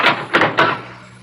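A front door opening in an old radio mystery drama, heard as three quick close knocking or latch thumps in succession, then a soft fading room tail, with no voices.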